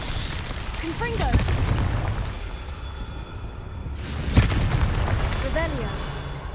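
Confringo blasting spell explosions in Hogwarts Legacy, two booming blasts a few seconds apart, loud and close, mixed with spell effects and a voice calling out over the game audio.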